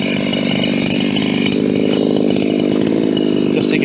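A chainsaw idles and revs steadily close by, its engine running continuously and loudly for the whole stretch with no voices over it.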